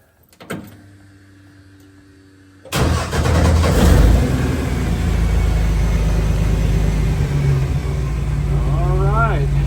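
A 1946 Willys CJ-2A engine cranks after a brief mechanical whir, then catches and settles into a loud, steady rumbling idle close by, with a short squeal rising over it near the end.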